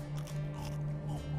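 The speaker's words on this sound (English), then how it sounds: "somebody was crunching pistachio nuts in my ear" Cartoon crunching of pistachio nuts right by someone's ear, a steady chewing and biting texture lasting the whole moment, close and fairly quiet over a low hum.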